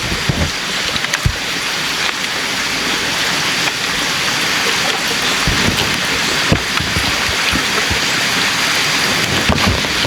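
Heavy rain pours steadily onto surfaces near a mountain stream, a dense, constant loud hiss with scattered heavier drops and low rumbles of thunder, no voices.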